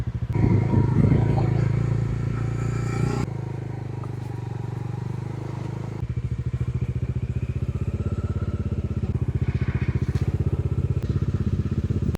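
A motorcycle engine drones steadily while riding along a road, shifting tone midway and settling into a rapid, even putter, fairly close.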